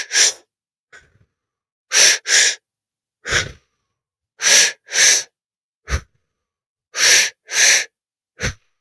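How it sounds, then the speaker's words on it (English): Forceful, rhythmic breaths during a guided breathing exercise, close and loud: paired sharp inhales and exhales repeating in quick bursts separated by short silences. "Pick up the breathing."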